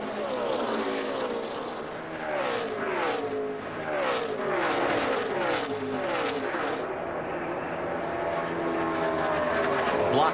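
Danica Patrick's race car at Kansas, heard on-board as a loud engine howl that sweeps up and down in pitch through the gears and corners, under continuous commentary from broadcasters.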